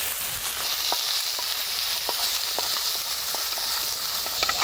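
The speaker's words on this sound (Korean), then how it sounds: "먼저 기름기가 좀 있는 고기를 좀 볶아주세요" Steady sizzling and frying of fatty meat in hot oil at a campsite, a continuous hiss with occasional small pops and stirring, close and moderately loud, no talking.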